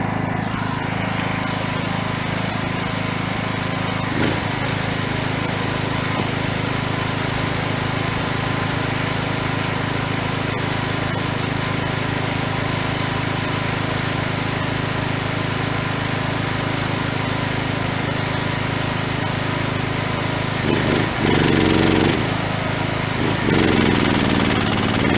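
A Kruzer TH 8000 E petrol generator runs under maximum load from a welder plus a compressor, giving a loud, steady engine drone that continues unbroken throughout, with a few brief shifts near the end.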